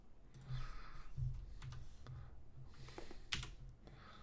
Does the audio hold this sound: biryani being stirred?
no